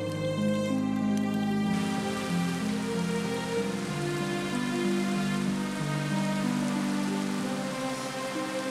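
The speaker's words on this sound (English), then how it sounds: "It rains at long last." Heavy rain pours down steadily over the Bardenas Reales desert in autumn, a dense, loud, continuous hiss with no voices.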